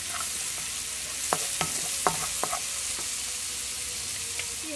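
Tuna samosa filling of onions frying in oil over medium heat, a steady close sizzle with a few sharp scraping stirs of a utensil against the pan partway through, no voices.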